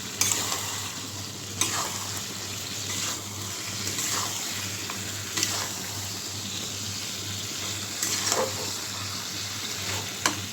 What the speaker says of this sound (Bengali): মশলার সাথে আলুটা আর কলিজাটাও আমি কষিয়ে নেব